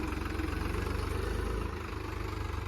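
Tractor engine idling steadily with a deep, even throb and a constant mechanical hum, close and loud, with a slight dip in level late on as it is put into first gear.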